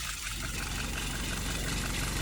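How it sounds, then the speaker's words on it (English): A steady, close car engine idle at about 670 rpm hums and rumbles evenly without changing pitch, with no voices over it. "Currently idling at about 670."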